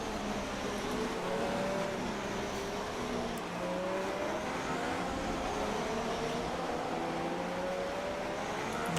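Formula 1 car engine from the F1 2016 racing game, a steady high-pitched whine with rising and falling gear harmonics that continues loud and close for the whole stretch, with no voices.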